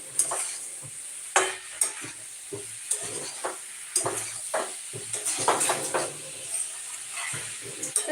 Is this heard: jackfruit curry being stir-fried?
yes